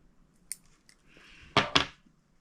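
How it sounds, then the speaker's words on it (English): A pair of quick scissor snips trims the loose tag end of fishing line on a three-hook flapper rig, two sharp close cuts after faint handling clicks. "Trim that tag end off."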